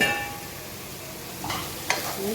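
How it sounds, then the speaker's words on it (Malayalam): Fried rice with soy sauce is stirred in a pan, a light sizzle with a few scraping strokes of the spoon, heard alone and close. "ഒന്നുകൂടെ നന്നായിട്ട് ഇളക്കുക"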